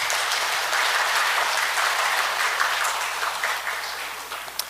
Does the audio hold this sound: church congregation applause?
yes